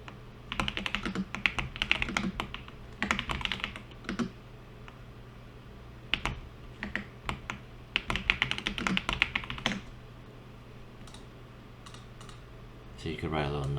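Someone types on a computer keyboard in bursts of quick, close clicking, pausing between runs, over a low steady hum, ending with a brief different noise.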